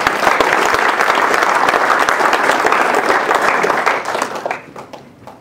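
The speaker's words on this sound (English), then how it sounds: "Everybody give him a round of applause." A corporate audience applauds a volunteer at a company party magic and mentalism show: loud, sustained group clapping that holds steady for about four seconds before thinning into a few scattered claps and fading out.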